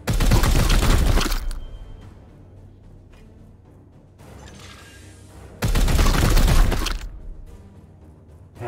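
Gunfire from the Hailer Skull in the tactical game Chaos Gate: Daemonhunters, two loud harsh blasts of about a second each separated by a few quieter seconds.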